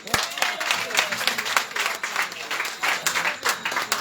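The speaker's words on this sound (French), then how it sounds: "Nous applaudissons." An audience at an evening health gathering claps together for a speaker. The applause is dense and fairly close, holds steady with small surges, and no voices come through over it.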